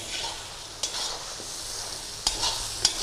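Mutton karahi being stirred in an iron wok over a lowered flame: a steady sizzle and frying hiss broken by a few sharp scraping strokes of the spoon against the metal, with no talking.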